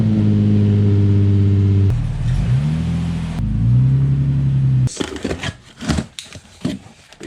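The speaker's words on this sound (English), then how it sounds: "But first, here's a cold start." A car engine cold start with a manual transmission swap: it idles with a steady low hum, cuts and restarts with rising revs, then gives way to rustling and clattering noises.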